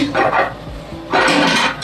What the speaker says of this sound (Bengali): ঢাকনাটা খুলি দেখুন বন্ধুরা পিঠেটা আমার হয়ে গেছে